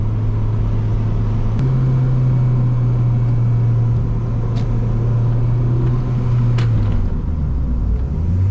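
A 350 hp big-turbo Honda Civic coupe on the road gives a loud, steady engine drone that shifts pitch partway through, with a few faint sharp ticks over the rumble.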